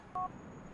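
A single short DTMF keypad tone sounds on an in-game mobile phone used to call a taxi in Grand Theft Auto IV. It is clear and isolated over a quiet background.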